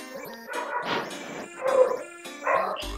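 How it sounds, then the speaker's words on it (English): A stray dog barks and yips out in the street in several irregular bursts, moderately loud and slightly distant. "can you get your dog to just shut up? That's not my dog. It's a stray dog in the street."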